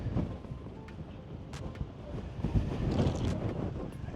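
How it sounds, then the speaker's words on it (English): Strong wind blows outdoors beside a house, buffeting the microphone with a continuous rough low roar that swells and gusts throughout. "That wind is busting."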